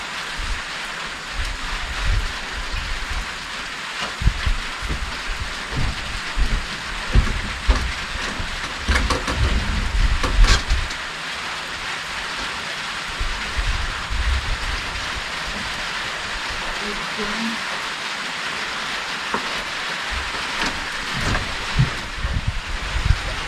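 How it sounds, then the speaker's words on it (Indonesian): Light drizzle falls steadily near an outdoor hut, a soft continuous patter with scattered drop taps and occasional rustling, nearby and fairly quiet throughout. "jadi udah mulai gerimis di sini"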